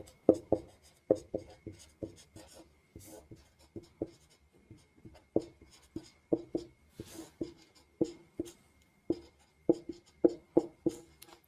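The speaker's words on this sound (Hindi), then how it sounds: "मैं लिख देता हूँ" Pen writing on paper during a lesson about transformer windings, close and crisp scratchy strokes coming in quick clusters with short pauses, and no talking over them.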